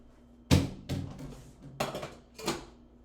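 Shirataki noodles land in a skillet with several sharp clattering impacts, a loud first hit followed by a few rattling thuds and scrapes of pan and utensil, close by in a quiet kitchen.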